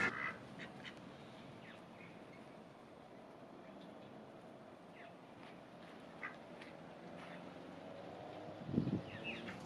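Several ducks quacking in a back garden, short scattered calls over steady outdoor background noise, one louder burst near the end.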